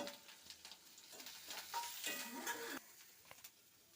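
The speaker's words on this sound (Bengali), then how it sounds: "কাঁচা লঙ্কা কোচানোটা দিয়ে দেবো, লঙ্কা গুঁড়ো, হলদি গুঁড়ো, জিরে গুঁড়ো, ধনে গুঁড়ো দিয়ে ভেজে নেব।" Green chilli with chilli, turmeric, cumin and coriander powders fries in a pan for pointed-gourd chops, giving a faint, steady sizzle broken by stirring scrapes and utensil knocks.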